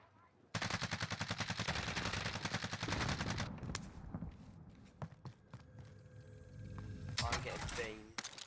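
Rapid automatic gunfire in the battle-royale shooter Warzone: a loud burst of fast, evenly spaced shots for a few seconds, followed by scattered single shots, footsteps and clanks, with voices talking intermittently.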